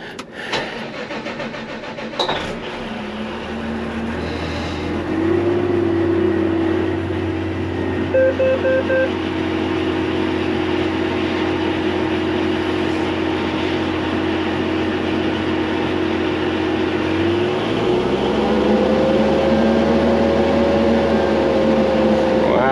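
A small engine cranks, fires and starts, then runs at a steady high idle, its hum rising once in pitch as the throttle comes up; a continuous close drone with a few clicks at the start.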